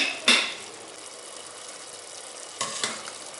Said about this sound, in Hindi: और अदरक डाल के इसको अच्छी तरह भूनेंगे